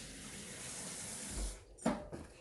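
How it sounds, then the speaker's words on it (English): Hands being washed under a running kitchen tap while cooking pulled pork: a steady hiss of flowing water, then splashing and a brief gush as the hands move under the stream. "Wash my hands."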